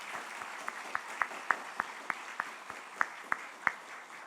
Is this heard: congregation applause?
yes